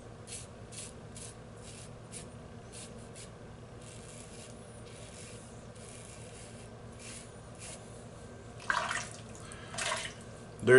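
Brush working a shaving soap lather for a traditional wet shave, steady soft swishing and rubbing close by, a few louder wet strokes near the end.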